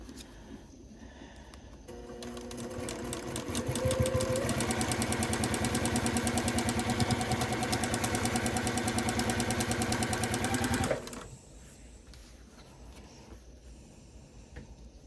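A home sewing machine runs steadily at speed for about nine seconds while stitching a mini quilt, its loud, even mechanical whir rising and stopping sharply, with quiet room tone before and after.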